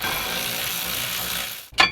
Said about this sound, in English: Finish them off with the electric ratchet.